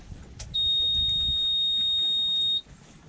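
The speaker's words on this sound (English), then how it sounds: "you want to wait until that beep turns off, so you can hear it." A boat's ignition warning beeps before the engine is started, one steady high-pitched electronic tone lasting about two seconds, loud and alone after a brief click.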